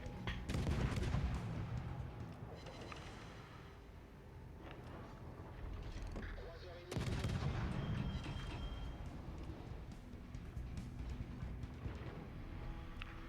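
Naval guns firing in a warship battle game, heavy booming salvos with rumbling reverberation, a strong volley at the start and another loud burst about halfway, with continuous battle noise between.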